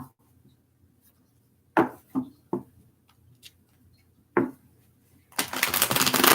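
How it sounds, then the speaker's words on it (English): Tarot cards being shuffled by hand: a few sharp riffles and taps separated by quiet gaps, then a loud, dense burst of flicking cards at the end, close to the mic, with no speech. "let me just do a couple more shuffles here for you guys"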